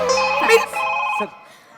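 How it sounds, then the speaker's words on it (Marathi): A phone ringing at a comedy show, with steady tonal ring bursts running through most of the short stretch and a voice breaking in over it partway through. "हा फोन घ्यायचा ना"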